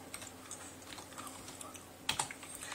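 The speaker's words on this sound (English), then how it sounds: "I type it exactly as it is on the instructions." Typing ADB commands on a computer keyboard gives quiet, quick key clicks in an uneven patter, with a couple of sharper keystrokes near the end.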